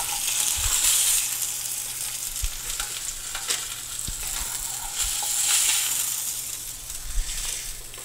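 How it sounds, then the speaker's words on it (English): Salmon sears in a very hot pan, a steady close sizzle and hiss of frying fish with small pops and crackles, heard alone throughout. "we used a really hot pan, a really dry piece of fish, and we seared the protein and got a nice crust on there"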